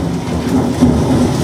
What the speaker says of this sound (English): Thunder crashes and the rain grows stronger.